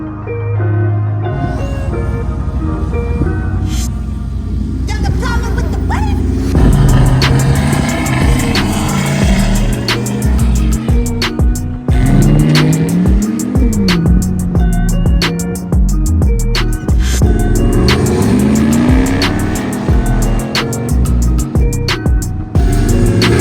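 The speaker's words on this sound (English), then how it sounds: "the first activity that we did was the drag racing" Drag racing cars, including a 1979 car, roar with loud, sustained engine noise and rising revs that repeat as runs launch and pull away, continuous throughout.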